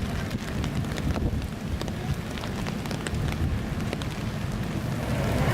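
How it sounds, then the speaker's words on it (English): Steady rain falling in the gardens around the Eiffel Tower in Paris, a constant hiss of drops with scattered patters, likely on an umbrella, mixed with wind noise and no talk. "Then it was back in the rain to the gardens surrounding the Eiffel Tower"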